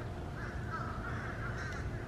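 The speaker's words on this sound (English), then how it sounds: "A lot of crows out. There's always a lot of crows in this area." Crows caw steadily in a wet, swampy Florida park with Spanish moss, their calls blending into a continuous, fairly distant chorus over a low outdoor rumble.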